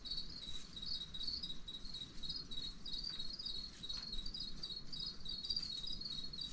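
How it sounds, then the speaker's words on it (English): Crickets chirp steadily in the background throughout, a continuous high trilling that stays moderately faint against a low ambient rumble, with no one speaking. "you guys can hear the crickets in the background"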